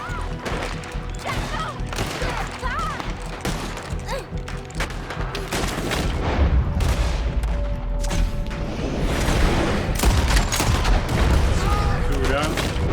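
Pistol and rifle gunfire in Red Dead Redemption 2, a first-person frontier shootout against attacking gang members, with dense overlapping shots building louder midway and continuing in a sustained barrage, mixed with shouting voices and game sound.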